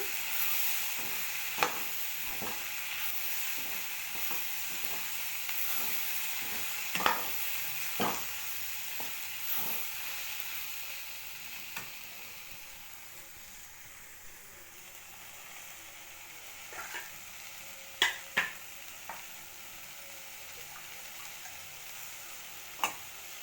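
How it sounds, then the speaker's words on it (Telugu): Okra and potato curry fries with homemade coriander powder in a pan, a soft steady sizzle broken by scattered sharp clicks and scrapes of stirring. "ఇప్పుడు బాగా ఫ్రై చేసి"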